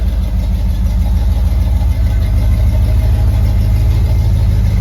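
A 1951 Chevrolet 3100 three-window patina rat rod shop truck with a 350 engine and automatic transmission, running steadily at a low, even idle with a deep, continuous rumble close by.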